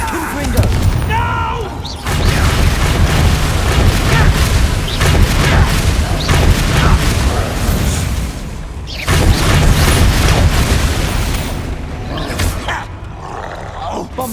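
Bombarda and Confringo spell explosions in Hogwarts Legacy erupt as loud, booming blasts amid dense battle noise, with sharp bursts near the start and around nine seconds while a player shouts over the chaos.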